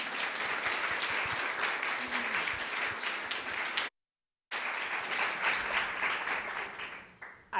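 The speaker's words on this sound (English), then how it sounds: "let's give them all a round of applause as our panel begins" A lecture-hall audience applauds as a panel begins, dense sustained clapping that cuts out briefly, then resumes and tapers away toward the end.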